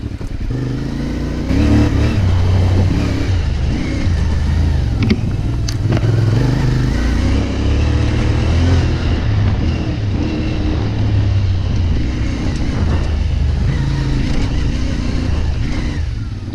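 A CFMoto CF450MT adventure motorcycle rides an off-road trail with its engine droning steadily at low revs, near and loud, with gentle swells in throttle throughout.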